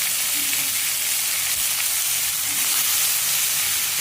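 Ingredients roast and sizzle in a hot pan while a vegetarian breakfast thali is cooked, giving a steady, close frying hiss that runs unbroken throughout with no voices.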